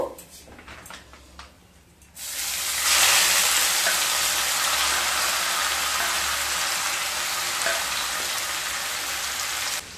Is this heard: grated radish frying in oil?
yes